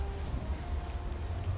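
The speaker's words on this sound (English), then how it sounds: "Alright, it's rainy" Steady rainfall in the video game Elder Scrolls Oblivion, a faint, even patter with a soft low rumble, continuous and unbroken.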